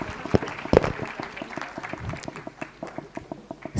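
Audience applause at a youth conference session in a Johannesburg hotel, a steady patter of many hands clapping, moderately distant and continuous, thinning slightly toward the end with some voices mixed in.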